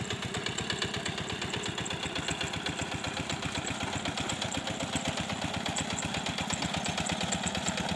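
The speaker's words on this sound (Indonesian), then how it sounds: "proses membajak sawah menggunakan lukum mesin atau traktor ya" A hand tractor engine ploughing a wet rice paddy, thumping in a steady fast rhythm, loud and close throughout with no talking.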